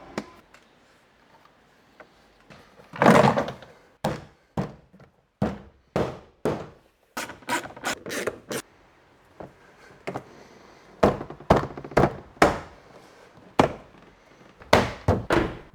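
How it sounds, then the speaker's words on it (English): A BMW E92 320D door card being pressed back onto the door: a run of sharp plastic clicks, thunks and snaps, irregularly spaced and close, with some quiet gaps between bursts. "And now we'll put the door card back"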